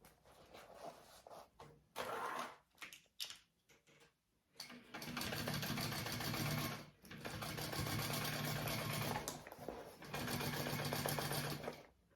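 Sewing machine stitching the side seams of a handbag at a quarter-inch seam allowance, running in loud, steady bursts with brief pauses between runs, close by and without voices.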